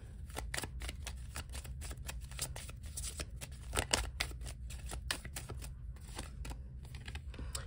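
Guidance cards being shuffled during a tarot-style reading, a steady, close, soft riffling and flapping of cards that runs continuously with no talk.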